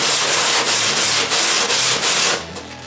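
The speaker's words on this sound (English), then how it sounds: "120 grit sandpaper, wrap it around, and then simply" 120 grit sandpaper wrapped around a finger rubs into the inner rounding of a cauldron build, loud rhythmic strokes of steady scratchy hiss, close up, ending quieter.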